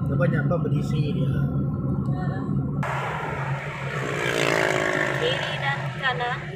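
Steady rumble of cars moving along a busy city road at night in Kuching, with passing engine and tire noise throughout and brief voices mixed in.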